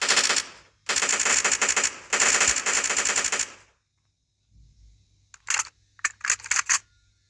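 Automatic gunfire from a weapon in a modded Minecraft game rattles in three long bursts, then after a pause comes a scatter of short, clipped bursts, loud and close with no talk over them.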